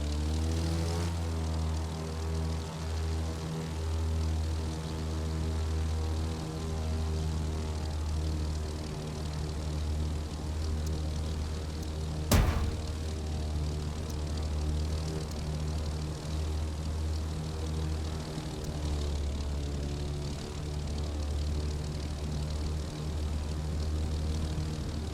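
A propeller airplane flying low over treetops in the racing game The Crew 2, its engine drone loud, close and continuous, with a strong low throb and rising and falling harmonics, one sharp short crack near the middle and no talking.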